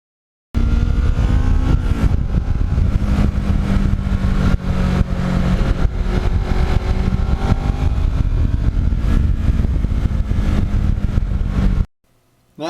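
A Kawasaki Ninja motorcycle ridden on the road, its engine droning steadily and loudly with wind rush for about eleven seconds, the pitch rising and falling slightly with throttle, before cutting off abruptly.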